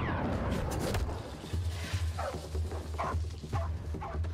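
A dog in a film growls and yips amid noisy, busy action sounds, with short whining barks repeating over a low rumbling background.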